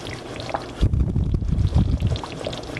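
A cooking pot slides and rocks on a stove over medium-low heat, giving low rumbling scrapes and shuffles that start after a brief pause and continue unevenly to the end, fairly close and alone.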